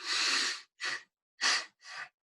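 A person blows out breath through the mouth in a breathing demonstration, four separate exhales: one long, then three shorter puffs, each close and breathy with silent gaps between.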